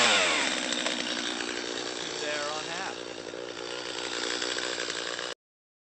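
A chainsaw cold-starting on full choke runs loud and steady for about five seconds, a rough buzzing roar with slight pitch wavering, then cuts off abruptly. A voice may be faintly present under it.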